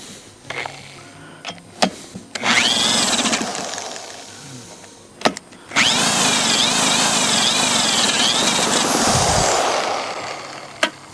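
A 1965 Evinrude 3 hp outboard motor run in a water barrel is pull-started twice, each time breaking into a loud close buzzing whine that wavers in pitch, the second run lasting about five seconds before cutting.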